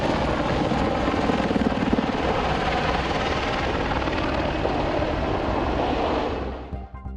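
An Apache military attack helicopter flies with a steady, loud rotor thump and turbine roar filling the whole span, fading slightly at the very end, with no voices.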